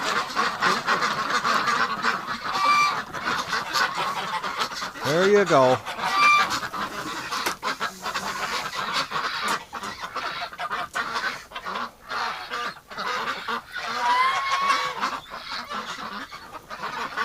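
Muscovy ducks call around a farmyard in winter wind, with a loud run of honking calls midway and scattered quieter calls before and after, while a person talks briefly nearby.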